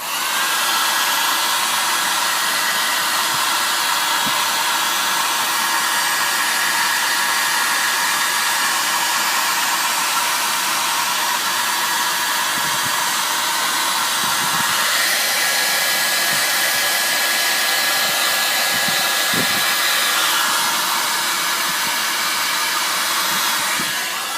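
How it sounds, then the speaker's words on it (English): A hair dryer blows loudly and continuously at close range while drying a rust-effect finish, its steady whine shifting slightly in pitch partway through, with no talking. "again with the hair dryer."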